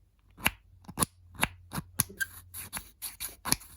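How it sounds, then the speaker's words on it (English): The plastic button on an aluminum flashlight is clicked repeatedly, giving a series of sharp, crisp clicks at an uneven pace, close and clear against silence. "We have like this plastic button here, nice and clicky"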